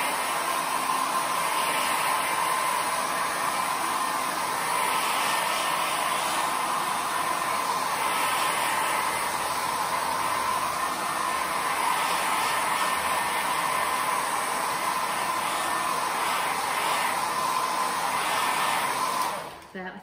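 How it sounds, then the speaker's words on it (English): A hair dryer blows steadily on a layer of acrylic paint, a continuous loud whooshing hum lasting about twenty seconds and cutting off at the end. "I need to dry it again before I do the next layer"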